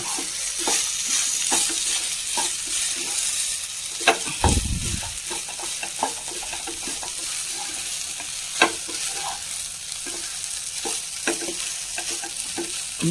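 Crumbled idli being stirred in a pan for idli upma, with a continuous sizzle and repeated scraping strokes of a spoon, one louder clatter midway, no talking.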